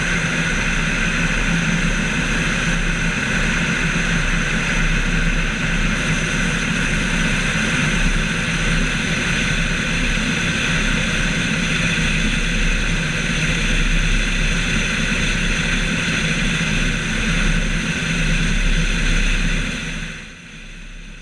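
Small propeller plane on a slipping landing approach to Zweisimmen airfield in Switzerland, its engine droning loud and steady from inside the cabin with a constant low rumble and whine, easing off right at the end.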